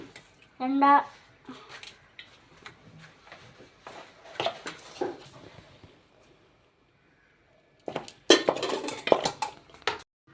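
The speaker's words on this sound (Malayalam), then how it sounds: "നമുക്ക് ഇനി ഒന്ന് നല്ലോണം ഒന്ന് ഇളക്കി ഇനി നമുക്ക് സെർവ് ചെയ്ത് കൊടുക്കാം. വേറെ പ്ലേറ്റിലേക്ക് മാറ്റി കൊടുക്കാം." A spoon stirring food in a pan, then scooping it onto another plate: sharp metallic clinks and scrapes in short clusters separated by quiet gaps, close, with some talking.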